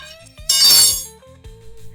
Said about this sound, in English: Not sure why there's a tire iron in here.